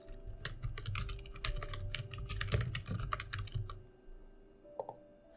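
Steady typing of a post title on a computer keyboard, a dense run of clicking keystrokes close by with brief pauses and a final few taps, no voices.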